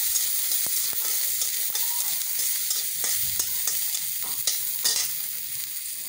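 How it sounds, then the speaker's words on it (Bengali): Garlic cloves frying in hot oil, a steady close sizzle with intermittent scraping clicks of stirring throughout, and no voices. "কয়েকটা রসুনের কোয়া এখানে তেলে ভেজে নেব"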